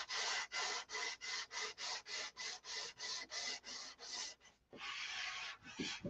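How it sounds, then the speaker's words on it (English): Rhythmic back-and-forth rasping of sandpaper on a painted surface, about a dozen even strokes, then a longer continuous scrub, close and quiet. "Sanding"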